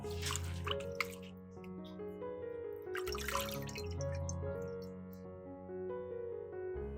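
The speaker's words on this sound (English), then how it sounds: "I simply dip them gently and give them a light shake so that the dirt and sand can gradually fall away." Fresh herbs such as parsley and mint dipped gently into a bowl of water and shaken lightly to rinse off dirt and sand, giving soft splashes and drips over steady background music.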